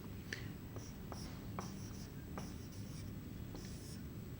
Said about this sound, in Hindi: मैं यहां पर लिखता हूं 23।